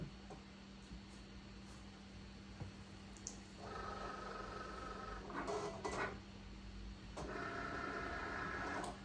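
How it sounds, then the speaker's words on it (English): A computer-controlled cutting machine feeds a sheet of graphics material and makes its cuts for a 1-inch scale ATSF GP60M locomotive model, giving a steady motor hum with two longer bursts of whirring, buzzy cutting about a second each, close by with no talk. "it starts feeding into the machine"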